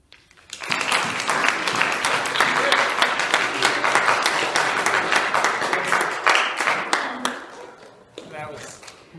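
Audience applause for poetry performers at a school-wide recitation competition: loud, sustained clapping from a crowd that swells quickly, holds steady for several seconds, then thins out, with a voice briefly heard as it fades.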